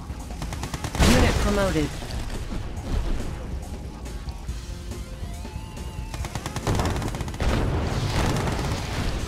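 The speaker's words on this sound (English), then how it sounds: "Missile ready. Target sighted. Fire at will!" Missile fire and explosions in a Red Alert 2 mod, with rapid gunfire bursts and loud booms that come in clusters, while a game voice speaks a short announcement.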